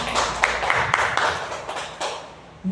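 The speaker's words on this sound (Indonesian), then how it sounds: "Sekali lagi tepuk tangan untuk Pak Faktur." An audience at an Indonesian event gives a round of applause, scattered claps rising and falling in a loose burst before fading out toward the end.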